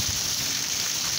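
Pouring rain during a thunderstorm with lightning in northeastern Brazil, a loud, unbroken bright hiss of downpour close by, with no voices.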